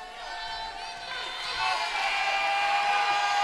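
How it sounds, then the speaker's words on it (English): Crowd noise swelling at a college basketball game between UTPA and Grand Canyon, a broad steady roar that builds louder in the second half, with free-throw atmosphere and no clear voices on top. "Crowd getting loud."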